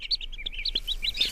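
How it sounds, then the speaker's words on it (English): A baby bird gives a quick run of high, thin chirps and tweets, close by and fairly soft, with no voices. "What's in the egg? A baby bird."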